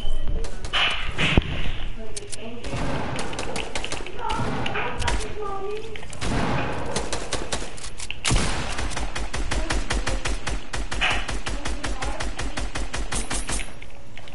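Video game gunfire pops and rattles in rapid repeated bursts with thuds mixed in, steady and fairly close throughout, while voices talk over much of it.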